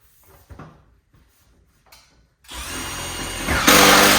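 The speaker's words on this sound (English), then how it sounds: "I'm just putting the first bottom screw in" A power drill drives a screw into a metal wall panel inside a pole barn: quiet handling clicks first, then a loud, close whir that rises in pitch near the end as the screw seats.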